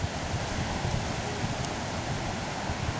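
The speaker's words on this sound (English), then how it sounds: "very windy from the sea" Strong wind blows in from the Tasman Sea over a beach, a steady broadband roar with surf mixed in, buffeting the microphone throughout with no talking.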